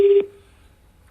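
Short electronic telephone tone heard while calling a phone, a brief pulsing beep that cuts off after a fraction of a second and leaves near silence.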